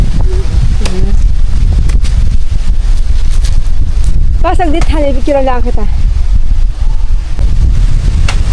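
Strong wind buffets an outdoor hillside spot overlooking the view, a steady low roar rushing across the microphone while people chat and call out over it.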